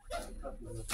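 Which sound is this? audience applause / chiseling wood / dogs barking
dogs barking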